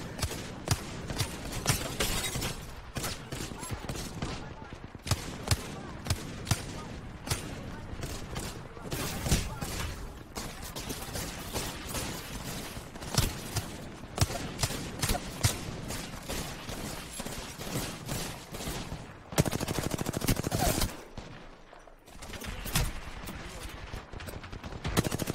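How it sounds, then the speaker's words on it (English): Rapid bursts of gunfire from a shooter video game crackle almost nonstop, dense automatic volleys and single shots mixed with in-game clatter, with occasional talking over the action. "Where am I getting shot from?"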